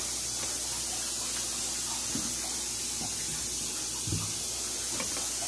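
Cleaner sprays from a bottle onto a kitchen gas range, a soft continuous hiss with faint clicks and taps in the background and no talk.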